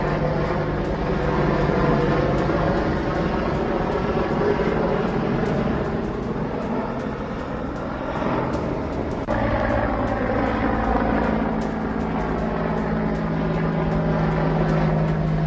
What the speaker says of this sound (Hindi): एक्शन में AH-64 अपाचे अटैक हेलीकॉप्टर